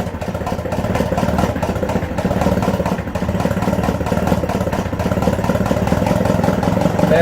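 An Atomic 4 inboard engine aboard an Irwin 32 sailboat runs near full throttle, a loud, steady, close mechanical drone with rapid clattering firing that holds unbroken throughout, with no talk over it.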